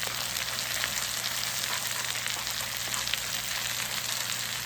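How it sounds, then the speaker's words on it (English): Scrambled egg fries in a pan with a steady, even sizzle and faint crackle, quiet and constant, no voices. "So you just go ahead and scramble up that egg with one of these spatulas. or cooking utensils and let it cook through."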